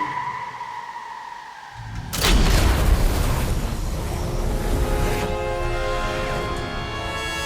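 A single bullet sets off a big explosion in The Matrix Awakens: after a quiet tonal hum, a loud sudden blast erupts and rolls into a long rumbling, debris-filled tail that slowly settles.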